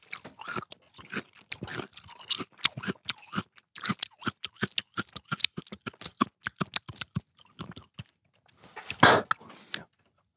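Close, loud crunching of celery being chewed, irregular rapid bites and crunches with short pauses, mostly alone without talk.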